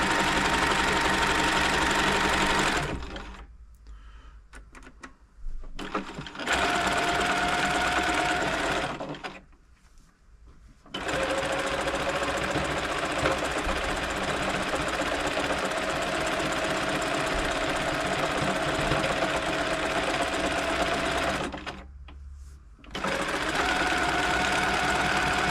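Elna Club Computer 500 sewing machine stitching through its range of stitch patterns, a loud, steady whirring rattle in three long runs separated by brief pauses.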